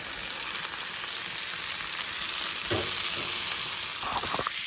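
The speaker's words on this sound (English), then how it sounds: "So we're gonna add our tomatoes and cucumbers in there." Tomatoes and cucumbers sizzle steadily in a hot pan beside maple-glazed salmon, a continuous frying hiss with a few soft stirring scrapes near the end.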